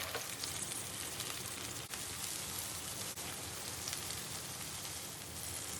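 Ginger-and-garlic-marinated fish sizzles in hot oil in a pan, a loud, steady, dense crackle with no let-up and no voices.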